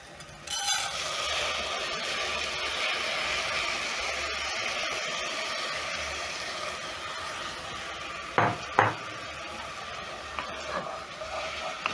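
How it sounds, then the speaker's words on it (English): Rice stirred and toasted with spices in a pot for chicken biryani, a steady soft scraping and sizzling hiss running throughout, with a couple of sharper utensil knocks against the pot near the end. "Stir in the rice together with the spices. Toast the rice for around 1 minute."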